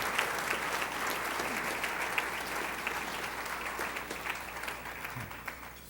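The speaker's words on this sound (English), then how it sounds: "you ought to clap your hands and make it clear that it's time to end homelessness" Steady, sustained applause from a luncheon audience fills the room, dense clapping from many hands that holds at an even level throughout.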